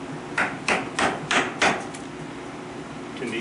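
Cold Steel Survival Edge hollow-handled knife being batoned through green maple hardwood, five sharp wooden knocks in quick, even succession, then a quieter pause with a faint final tap.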